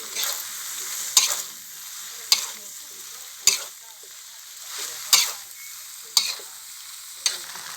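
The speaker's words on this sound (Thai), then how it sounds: "ใส่เส้นลงไปเลย อันนี้เราผัดเส้นโลนึงนะครับ" Steady sizzling from a hot wok, punctuated by regular metallic scrapes of a spatula about once a second as about a kilo of wide rice noodles are tossed and stirred for pad see ew.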